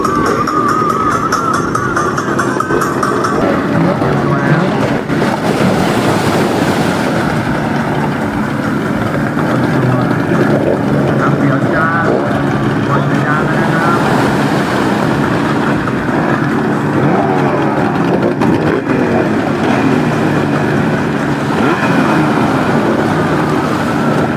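Sport 40 hp open-class speedboats race on a Thai waterway, a loud continuous outboard engine roar with rising and falling passes and churning water, dense and steady throughout.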